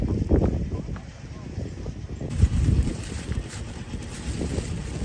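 Wind gusts over a snowy winter mountain trail on Taebaeksan, a rough, rumbling buffeting close against the microphone that rises and falls throughout, with people talking underneath.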